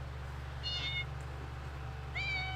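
A cat meows twice indoors during a live stream, each call short and tonal, fairly close but moderate in level over a steady low electrical hum.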